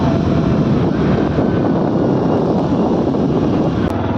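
A steady, loud rushing roar of a motorbike ride, engine drone mixed with wind buffeting the microphone, continuous and unbroken throughout.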